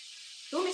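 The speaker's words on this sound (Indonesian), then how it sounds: "Di dapur lagi goreng ikan itu" Fish frying in a kitchen pan gives a steady soft sizzle and hiss, with a louder spattering burst near the end; faint and short.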